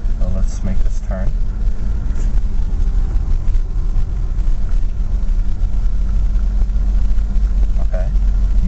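A manual-transmission car driving in second gear hums with a loud, steady low engine drone from inside the cabin, and someone talks over it now and then.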